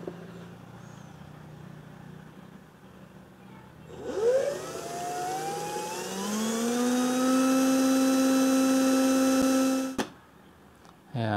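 Power drill boring a hole into a utility box for a drooping wall switch, a rising whine that climbs in pitch then holds a steady loud tone for several seconds before cutting off abruptly.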